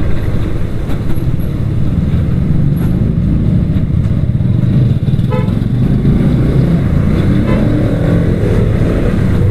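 A 2021 KTM Duke 200 BS6 motorcycle engine runs steadily through a test ride, its loud, gritty low drone mixed with rushing wind, staying constant with no speech.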